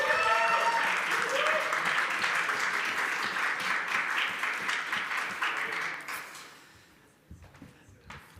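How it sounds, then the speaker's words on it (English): Audience applause for the winners of the EuroTeQ Waste Challenge, dense steady clapping from a crowd that fades out over the last couple of seconds, with a few scattered claps and faint talk at the end. "Let's make another applause for them."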